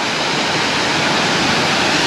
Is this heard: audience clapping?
no